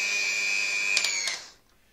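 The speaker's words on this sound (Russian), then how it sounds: "как работает этот миксер" A German electric hand mixer whirs loudly and steadily at close range, with a few brief clicks near the end before the motor cuts off and winds down to near silence.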